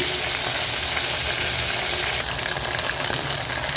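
Prawn 65 frying in plenty of hot oil, giving a loud, dense, continuous sizzle close up with no break or talk.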